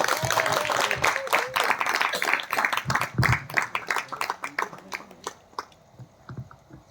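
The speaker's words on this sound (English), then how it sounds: "Please give a big round of applause to Girish sir." An office event audience applauding to welcome a speaker: dense clapping from a group nearby, strong at first, then thinning into scattered individual claps that fade out near the end.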